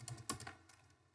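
Computer keyboard keys tapped in a few quick, soft clusters with short pauses between them, close by in a quiet room during a hacking lab exercise.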